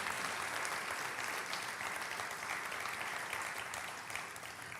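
A congregation at a Spanish-language live church service applauds steadily, a dense, continuous wash of many hands clapping that holds at an even level and eases slightly toward the end, with no voices standing out.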